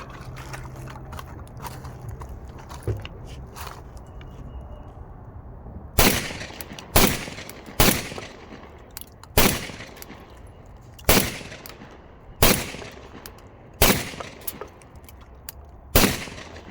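Beretta 1301 and A300 semi-auto shotguns firing outdoors, about eight loud evenly spaced shots, each followed by a short decay, after a stretch of quieter handling and rustling.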